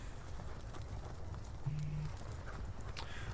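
Cavalry horses in a Napoleonic war strategy game, with a steady rumble of many hooves clip-clopping at a distance, faint and continuous with no talking.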